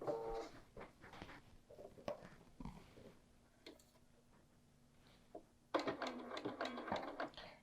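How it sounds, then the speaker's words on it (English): A domestic sewing machine stitches down a yoke seam at 3/8 inch, with short bursts of close mechanical whirring that stop and start, then a louder, busier run of stitching near the end. "What I do is I just stitch it down"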